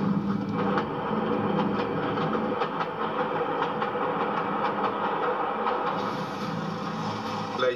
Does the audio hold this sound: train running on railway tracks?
yes